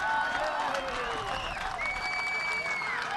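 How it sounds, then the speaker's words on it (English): Clapping from a cricket crowd at a Nepal vs Scotland match, steady and moderately loud, with scattered whistles and cheers over it. "Applause from both camps there."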